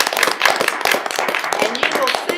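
Audience at a Town of Spencer Board of Aldermen meeting breaks into applause, a dense burst of close, sharp handclaps continuing steadily for a couple of seconds.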